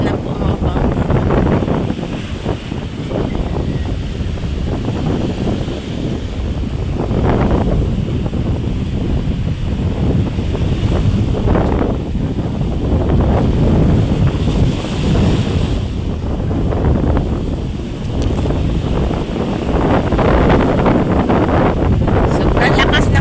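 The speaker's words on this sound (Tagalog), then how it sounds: "Sobrang lakas ng hangin." Strong wind roars across a shoreline with surf and waves washing in, a continuous loud buffeting on the microphone throughout, with faint voices underneath.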